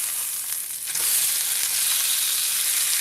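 Sausage frying in a pan alongside a mushroom gravy: a constant bright, close sizzle that swells louder just after the first second, when the sausage is flipped, then holds steady. No one speaks.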